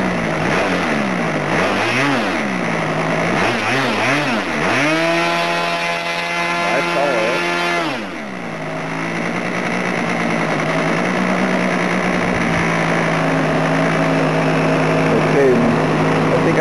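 An OS 46 LA model aircraft engine with a tuned, bored-out carburetor runs loud and close, its pitch swinging up and down, then holding a high whine before dropping to a lower, uneven idle.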